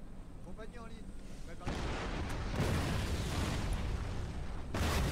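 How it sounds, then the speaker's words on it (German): Artillery bombardment in Napoleon Total War: a dense, rumbling barrage of booms that grows louder and more continuous after the opening seconds, with faint background sounds. "wie wir da drüben seine Stellungen unter Beschuss nehmen"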